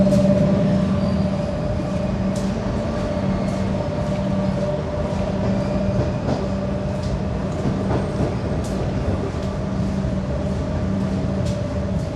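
An Australian suburban train carriage rolls toward Melbourne's Tullamarine Airport with a steady interior rumble and a low hum, broken by faint rail clicks and squeaks, and no talk.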